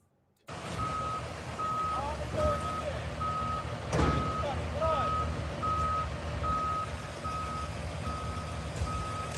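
Dump trucks reversing outdoors, a steady pulsing series of backup beeps at an even rhythm over a constant engine rumble, with a sharp clank near the middle, moderately loud and a little distant; people talk faintly underneath.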